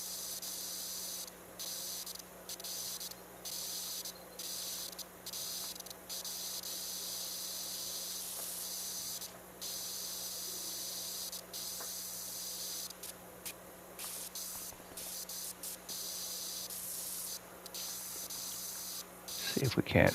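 Steady hiss of a pressure washer spraying in the cleaning game PowerWash Simulator 2, broken by short pauses as the spray stops and starts again, with faint talk underneath.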